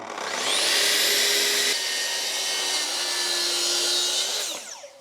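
A power tool saws steadily along the underside of a timber decking board with a high, continuous whine, briefly changing pitch midway and winding down at the end, with no voices.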